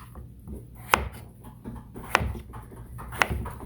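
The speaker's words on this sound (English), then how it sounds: "So now I can cut this in half before I go and dice it" A knife chopping through hard butternut squash on a cutting board: three sharp, separate knocks a second or so apart, close and distinct.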